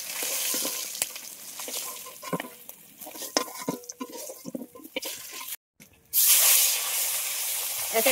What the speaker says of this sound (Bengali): এক এক করে সব মাছ ভেজে নেব।